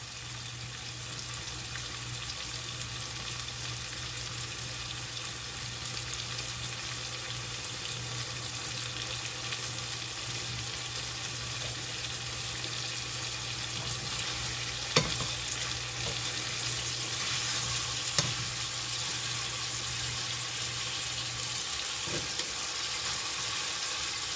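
Food frying in a very hot pan, a constant close hiss and sizzle held for over twenty seconds with occasional small clicks and stirring sounds, no speech.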